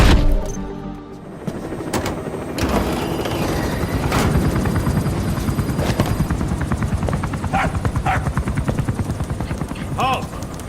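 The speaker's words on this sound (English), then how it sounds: "Exfiltrate out of the hot zone by chopper or on land." Military helicopter in Metal Gear Solid V: The Phantom Pain lifting off and departing a hot zone, a steady loud rotor thrum throughout, mixed with bursts of gunfire and game effects.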